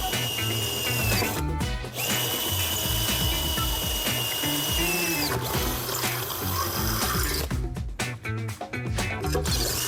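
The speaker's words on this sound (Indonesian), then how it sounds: "Kemudian di bawahnya juga kita bor satu lagi lubangnya." A power drill with an 8 mm bit whirs steadily for several seconds boring a hole, pausing briefly and restarting with a few sharp bursts near the end, loud and close.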